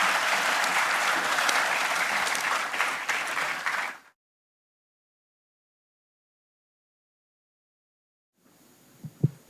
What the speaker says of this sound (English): Can we have a huge round of applause to Sir?